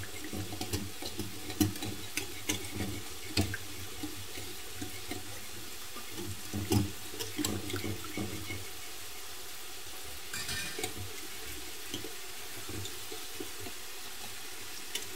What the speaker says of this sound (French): une louche d'eau de cuisson. Je mélange le tout.